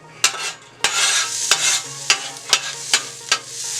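Onions frying with garlic butter on a hibachi-style Steelmade griddle, a steady close sizzle broken by sharp metal spatula clanks about every half second, with no voices.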